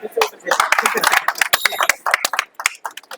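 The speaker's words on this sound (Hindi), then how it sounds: "जोरदार तालियां" Audience claps at a school science fair, a burst of irregular hand claps mixed with talking and crowd noise, close and fairly loud.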